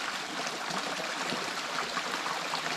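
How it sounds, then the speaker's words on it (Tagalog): Water flows steadily from a mineral spring, a soft, even, continuous rushing trickle at moderate distance with no voices. "ayan ang tubig sa amin mga guys"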